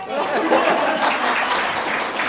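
An audience claps after a science presentation at a live-streamed event, a steady wash of applause mixed with some chuckling and voices in the room.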